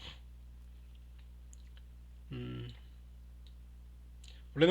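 A computer mouse clicks while text is selected and copied with the right button, a few close, sharp, isolated clicks spaced over quiet room tone.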